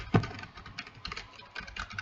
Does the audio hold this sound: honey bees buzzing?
no